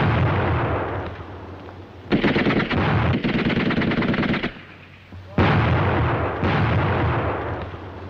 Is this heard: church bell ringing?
no